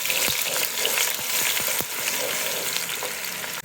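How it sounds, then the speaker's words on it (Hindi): A medium-sized onion fries in hot oil in a handi, sending out a dense, continuous sizzle with a few sharp stirring knocks, close and loud, no voices. "जी तो ये देखिए प्याज मेरे हो गए हैं फ्राई।"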